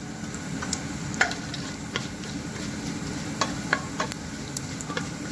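Cumin seeds crackling in hot oil for Punjabi kadhi pakoda, a steady frying hiss dotted with scattered light pops and ticks, close and even, with no talk.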